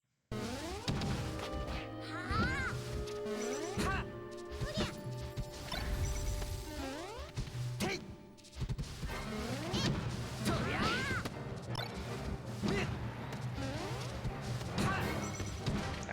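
Smash attacks connect in Super Smash Bros, with repeated loud crashing hits and whooshing swipes over busy game music and effects, including a matchup against the Ice Climbers, dense and continuous throughout.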